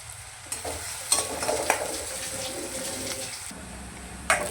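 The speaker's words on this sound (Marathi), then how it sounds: "कांदा आपल्याला गोल्डन कलरवरती असा परतून घ्यायचा आहे" Onions sauté in oil toward golden for a dried bombil chutney, a soft sizzle with scraping stirs and a few clinks, fairly quiet and close.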